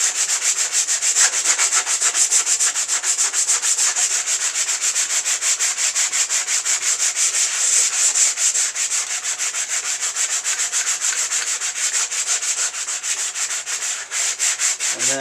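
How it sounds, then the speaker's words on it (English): Steady, loud rhythmic sanding on a 1996 Harley-Davidson Sportster 883 part rasps continuously for the whole stretch, a close scratchy back-and-forth with no voices. "I'll take that inside the house so it doesn't get all dusty with this sanding."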